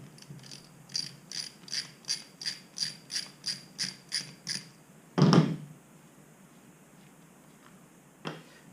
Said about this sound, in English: it's a simple thing of just taking out the bolts